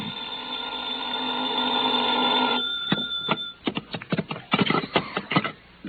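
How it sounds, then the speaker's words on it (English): An old-time radio drama's telephone rings as a sound effect, a steady bell tone giving way to a burst of rapid clattering rings, close and fairly loud, with no voices. "I was still in bed when the phone rang."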